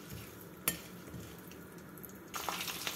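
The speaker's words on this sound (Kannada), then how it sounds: "ಈಗ ಇದಕ್ಕೆ 1 ಚಮಚ ಸಾಸಿವೆ ಹಾಕ್ತಾ ಇದೀನಿ, 1 ಚಮಚ ಉದ್ದಿನ ಬೇಳೆ, 1 ಚಮಚ ಕಡಲೆಬೇಳೆ" Mustard seeds, urad dal and chana dal fry in hot oil in a pan, giving a soft steady sizzle with a sharp clink of a utensil early on and a louder burst of crackling near the end.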